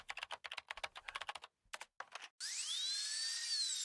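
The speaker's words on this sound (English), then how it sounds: "Ow, drill." A drill whines with a steady high-pitched tone that bends and shifts pitch, loud and continuous after a run of rapid clicking taps.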